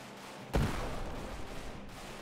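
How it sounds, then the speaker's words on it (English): Explosions and gunfire during an Airships: Conquer the Skies battle: one sharp blast lands, then a dense, sustained rumble of distant fire carries on at moderate level. "I can hear explosions to the left"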